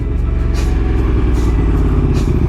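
A motorcycle's engine rumbles loudly and close, with the rhythm of a rider pulling the clutch, braking to a stop and pulling away again as in stop-sign practice.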